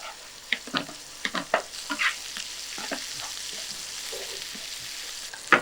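Chicken fries in a kadai over a low flame, a soft continuous sizzle broken by sharp spatula scrapes and clinks, mostly in the first half, with no one talking.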